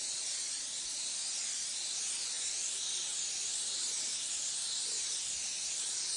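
A spray gun lays Snow White Pearl paint onto a vehicle's flame design, a steady close, unbroken airy hiss that rises and falls slightly in strength throughout.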